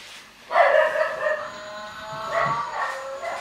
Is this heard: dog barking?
yes